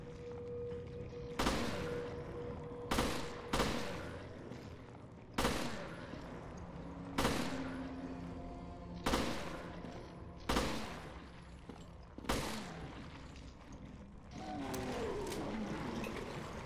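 Single gunshots fired one at a time in Resident Evil Revelations, about nine sharp cracks spaced roughly one to two seconds apart, each with a short decaying tail over quiet game ambience.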